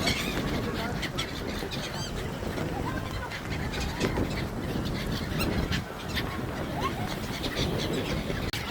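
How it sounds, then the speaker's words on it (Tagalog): A dense flock of birds at Corniche beach in Abu Dhabi honks and calls continuously, a busy wash of squawks close by, with people chatting over the noise. "Grabe, sobrang daming ibon."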